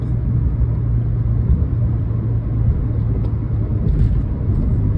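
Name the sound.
1996 Chevy truck driving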